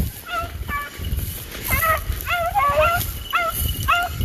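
Several dogs at a kennel barking and yipping in quick repeated bursts, loud and close, overlapping one another against outdoor background noise.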